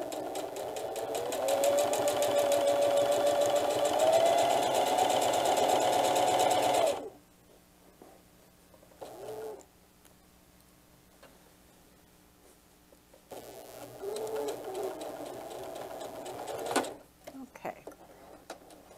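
A sewing machine slowly stitching through many thick layers of a diaper bag tote, a close mechanical whirr running steadily, then stopping, with brief restarts and quiet ticking between bursts.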